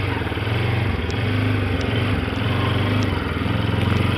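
Bajaj Pulsar RS200 motorcycle engine running steadily up close, a loud continuous low drone with a pulsing rumble and slight rises in pitch, no talking over it.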